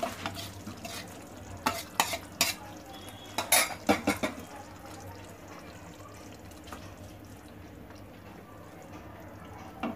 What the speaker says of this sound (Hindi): अब हम जो आलू हमने फ्राई किए थे वो डालेंगे।